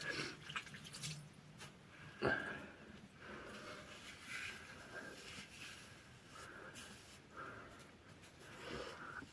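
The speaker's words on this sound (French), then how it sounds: "Et rincer mon visage." Face being rinsed with water at a sink, quiet splashes and trickling in irregular bursts, close and faint, with a couple of sharper splashes.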